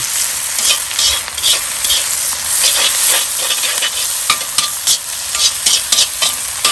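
Vegetables stir-frying in a Lodge cast-iron wok over a Weber charcoal grill: loud, constant sizzle broken by rapid, irregular scraping and tossing strokes, close up with no talking.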